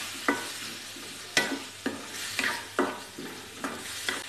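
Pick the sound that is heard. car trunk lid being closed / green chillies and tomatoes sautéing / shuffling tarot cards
green chillies and tomatoes sautéing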